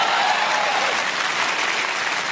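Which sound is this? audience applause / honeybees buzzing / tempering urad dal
audience applause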